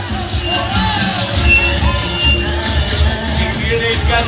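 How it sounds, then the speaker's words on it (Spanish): A crowd claps and murmurs steadily at a caporal dance performance by the Paso de Fuego group at a home gathering, the dense applause and babble holding at moderate loudness throughout. "Que vengan los aplausos."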